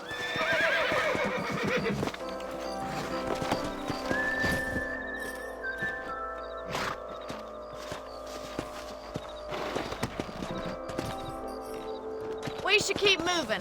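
In the Red Dead Redemption video game, horses whinny and hooves clip-clop at a walking pace, with game voices talking over them and a brief whistle amid the ambient soundtrack.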